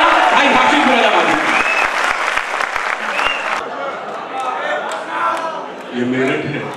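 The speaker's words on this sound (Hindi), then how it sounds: "जोरदार तालियां भाई हाशिम फिरोजाबादी" An audience at a Hindi-Urdu kavi sammelan mushaira at Chaudhary Charan Singh University claps loudly and steadily while someone speaks over the applause, which thins out as his voice takes over.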